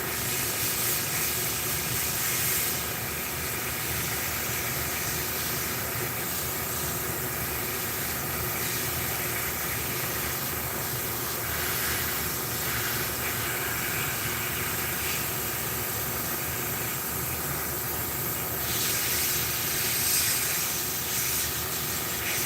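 An airbrush sprays paint in a home garage with a continuous, even, breathy hiss that runs almost unbroken, with slight swells and dips in pressure and no voices.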